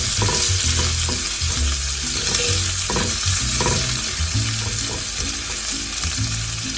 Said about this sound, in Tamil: ரொம்ப வதக்கணும்னு அவசியம் இல்லை, ஓரளவுக்கு அந்த வெங்காயம் தெரிஞ்சால் நல்லாயிருக்கும்